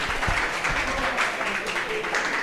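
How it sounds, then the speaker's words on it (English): Audience at an open mic meetup claps in a brief, dense patter, with a voice talking over the applause. "Big round of applause,"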